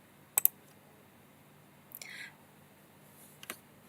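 A computer mouse clicks a run button in a quiet room, a close double click followed by a faint soft rustle and another pair of light clicks.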